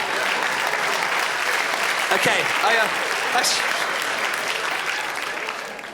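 Audience at a live stand-up comedy show bursts into loud, sustained applause mixed with some cheering and a brief spoken word, the clapping fading slightly toward the end.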